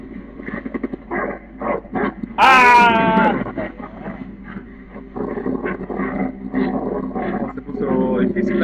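A dog in the video game Beyond: Two Souls lets out one loud, harsh snarling bark and growl partway through, amid talk and other game sounds, with a shorter growl near the end.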